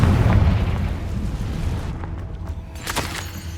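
Confringo fire spell exploding in the video game Hogwarts Legacy, a loud booming blast at the start that rumbles and fades over a couple of seconds, followed by a few smaller crackling pops.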